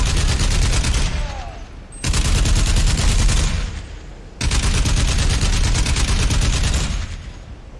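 Sustained automatic gunfire in Crysis Remastered, three long, loud bursts of rapid shots separated by brief pauses, dense and close with no talking.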